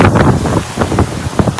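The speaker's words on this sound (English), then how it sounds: "now the wind is gusting." Wind gusts on a summer day, roaring and buffeting close against the microphone in short surges, loud and with no voices.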